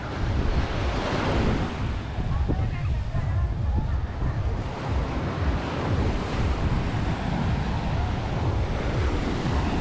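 Sea waves roll onto the beach at Playa Mamitas in Playa del Carmen, a loud continuous wash of surf mixed with strong wind buffeting the microphone.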